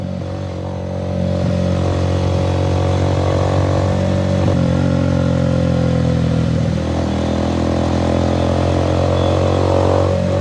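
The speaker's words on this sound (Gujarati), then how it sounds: "અવાજ કેમ છે ગાઈઝ બાઇકનો?" A Bajaj Pulsar 150 motorcycle engine runs steadily and loudly, its low throbbing drone holding near-constant with slight shifts in pitch, recorded up close while riding.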